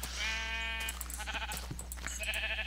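A sheep bleats in a video game, with a long wavering bleat followed by shorter clipped game sounds over a steady low hum.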